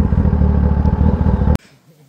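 A motorcycle engine idles loudly close by with a steady throbbing rumble, then cuts off abruptly near the end, leaving quiet.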